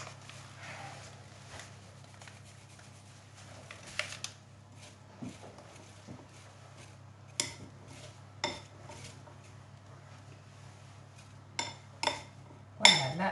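Flour-coated apple pieces are mixed in a bowl for an apple cake, with quiet scraping and soft stirring followed by sharper clinks of a utensil against the bowl near the end, over a low steady hum.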